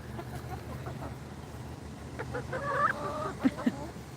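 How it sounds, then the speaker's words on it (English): Bearded chickens cluck nearby, with a few short squawky calls rising above low background noise toward the end. "I've started keeping these little bearded chickens because I think they're so cute"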